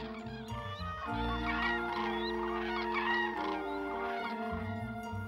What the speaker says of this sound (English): Their squawking helps them stay together in formation during the long trip.